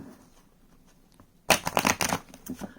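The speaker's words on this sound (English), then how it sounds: "So again, just shuffling this deck." A deck of playing cards being shuffled close up, a sudden burst of quick riffling flutters after a quiet start, followed by a few softer shuffles.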